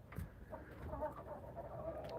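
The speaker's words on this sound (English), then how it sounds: "That's cry baby rooster." A rooster called Cry Baby calls on a farm during a winter storm, giving short, strained squawking cries close by, followed by softer clucks and bird chatter.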